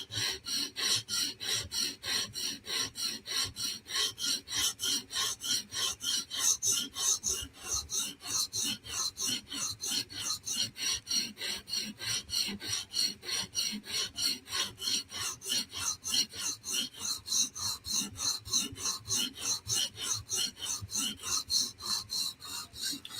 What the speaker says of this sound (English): we're just going to rub against the electrical tape to get to the very, very end of the heel so we can actually sharpen it